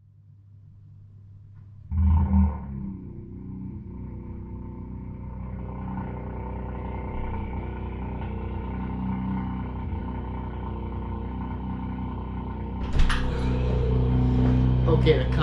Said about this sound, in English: the car's started and it's really loud.